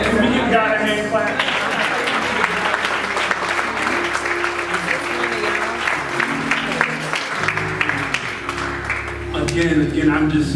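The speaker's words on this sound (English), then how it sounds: "Can we give God a hand clap?" A church congregation at a United Methodist worship service claps their hands steadily for about ten seconds, loud and close, with voices and singing mixed in under the applause.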